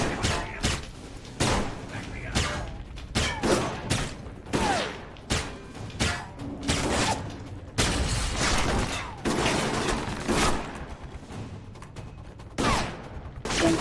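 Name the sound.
turret gunfire in the video game Alpha Protocol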